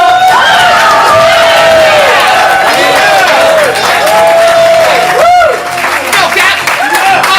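At a ComedySportz improv comedy show, a packed audience erupts in loud applause, cheering and whoops for the two team captains. The noise is close and sustained, with shouting voices mixed in.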